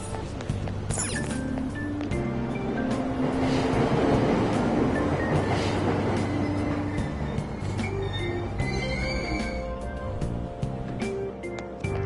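A Tokyo subway train departs in the video game Persona 5, a steady rumbling roll with clattering wheels and light squeals, alongside station chimes and tones throughout.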